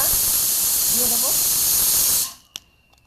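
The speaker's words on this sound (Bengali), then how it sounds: "প্রেশার কুকারে সিটি পড়লো।" Pressure cooker vigorously releasing steam in a loud, steady hiss for about two seconds before cutting off, followed by a single sharp metallic click and quiet, with a brief voice under the hiss.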